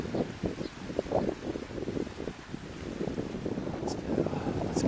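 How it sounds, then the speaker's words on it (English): Strong wind buffets the microphone outdoors on a sandy Hong Kong shore, rumbling in uneven gusts, loud and close, with a couple of brief higher sounds near the end and no talk. "We'll be out of the wind soon as well."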